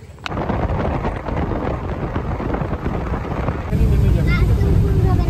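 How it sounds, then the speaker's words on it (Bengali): Rain begins falling outdoors as a steady, dense hiss that swells noticeably louder and fuller for the last second and a half. "এই যে বসতে বলতে বলতে বৃষ্টি নেমে গেছে।"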